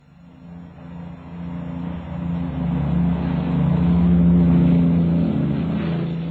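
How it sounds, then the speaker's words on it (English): A propeller-era airliner builds power for takeoff from a Heathrow runway in the 1940s. Its engine drone swells from a low hum into a loud, sustained roar with a steady tonal whine, heard on an old film soundtrack. "it takes off from the finest runway in the world"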